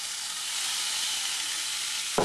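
Diced fatty homemade meat sizzling in a hot frying pan, a steady close hiss of frying with a brief clatter near the end.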